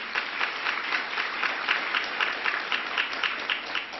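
Audience applause at a political speech, steady dense clapping from a large crowd that fills the whole stretch at an even loudness, with no voices standing out.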